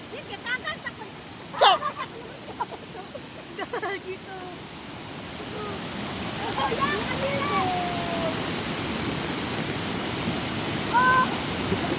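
Floodwater from heavy rain rushes in a loud, continuous roar, with a few voices speaking and shouting over it early on and a bird calling faintly near the end.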